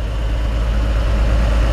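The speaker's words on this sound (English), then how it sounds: "I always thought these original 6-cylinders sounded like diesels." The original six-cylinder engine of a 1955 Chevy 3100 pickup idles with a steady, close, low rumble and no break, and nobody talks over it.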